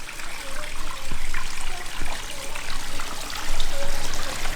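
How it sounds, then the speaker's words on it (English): Waterfalls pour into display pools at a water garden centre, a steady close splashing and trickling that runs continuously, with a few faint knocks and background sounds. "They have a few display pools, so with the waterfalls flowing,"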